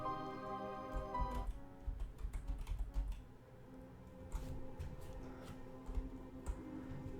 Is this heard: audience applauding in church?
no